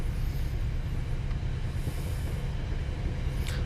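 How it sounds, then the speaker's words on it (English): A Boston commuter train led by an HSP 46 diesel locomotive rumbles steadily in an underground station in Train Sim World 5, a loud dense low roar with hiss on top and no pauses. "There's a Boston commuter train led by an HSP 46."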